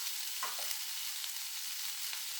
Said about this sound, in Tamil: கொத்தமல்லி தழை எல்லாத்தையும் போட்டு நல்லா இதிலே வேகிற அளவுக்கு வதக்கிடணும்.